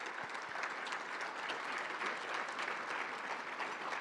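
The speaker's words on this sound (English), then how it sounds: "Let's give them a round of applause." An audience at a downtown civic luncheon claps steadily for event sponsors, a dense and sustained round of applause from the room.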